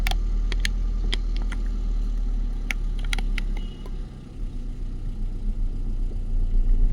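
Car engine running at low idle during reverse parking practice, a quiet steady hum with a few faint clicks and rattles, no voices.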